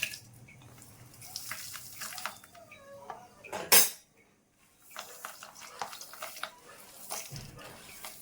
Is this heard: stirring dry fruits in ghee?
yes